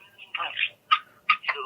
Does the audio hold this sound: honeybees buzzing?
no